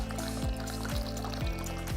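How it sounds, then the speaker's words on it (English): Bombay Sapphire gin, a 50 ml measure, poured straight into a cocktail glass, with a steady liquid splash and a few soft repeated knocks over a continuous low hum. "and then pour it straight into the glass"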